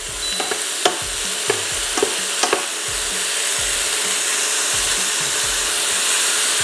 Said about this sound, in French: Je vais mettre l'ail que j'ai ciselé en petits morceaux.